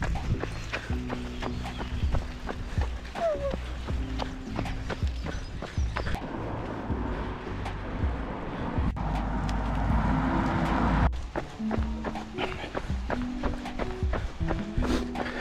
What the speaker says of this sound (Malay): Kita tengok kuda ni.